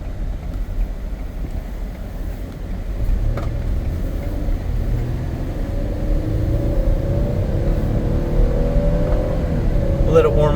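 A 2015 all-wheel-drive Ford Explorer Police Interceptor with a 3.7L engine warming up, a steady low rumble that rises as the engine revs, its pitch climbing gradually over the second half, with someone talking over it.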